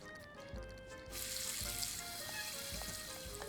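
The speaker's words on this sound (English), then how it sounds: "Turn on the faucet." Faucet water running in the video game Loco Motive, a steady hissing stream that starts partway through and continues over a low rumbling game background, no talk.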